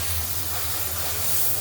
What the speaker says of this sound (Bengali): মশলাটা একটু ভাজা ভাজা হোক